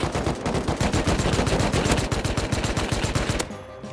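Rapid automatic gunfire crackles in the survival video game Rust, a dense burst of loud, closely spaced shots lasting several seconds before it cuts off.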